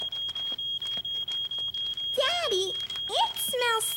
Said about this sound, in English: My toast burned and set off the fire alarm.